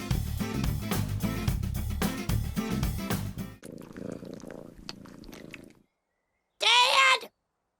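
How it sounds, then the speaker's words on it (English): Music and speech from an animated King of the Hill episode play loudly, then give way to a cartoon cat's low, rhythmic purring. A short, bright cat vocal sound bursts out after a pause. "Cat?"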